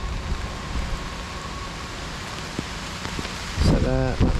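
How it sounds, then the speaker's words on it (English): Steady heavy rain hisses along a station platform on the Hounslow Loop Line, a dense, even wash of noise; near the end a louder rumbling burst with a rising tone, likely a train, breaks in briefly. "It's raining like mad."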